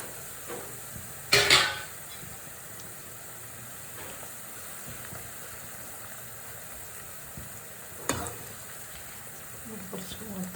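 Garlic and green chili frying in a pan for cauliflower fry, a soft steady sizzle with a couple of sharp utensil clinks against the pan, close by.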